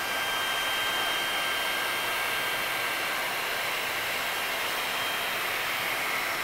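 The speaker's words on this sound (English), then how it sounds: "I'm sure mine will shrink first, Barry, with my trusty heat gun" A heat gun blows hot air to shrink heat shrink tubing, a constant loud whooshing roar like a hair dryer that stays steady and unbroken throughout, close by and alone.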